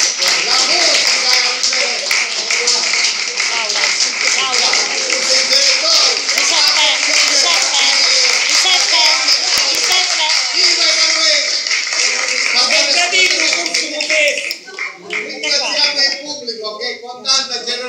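Sustained applause from a theatre audience, a dense wash of clapping that carries on loudly for most of the stretch before thinning out near the end.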